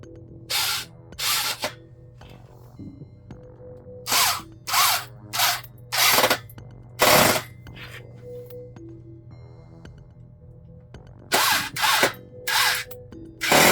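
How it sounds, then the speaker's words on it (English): Power drill driving two screws into a drawer, with repeated short bursts of whirring, several quick pulses in clusters separated by pauses and light handling noises, close and fairly loud. "That's a good drill."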